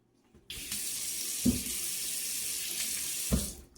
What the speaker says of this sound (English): I'm going to take my, rinse my hands.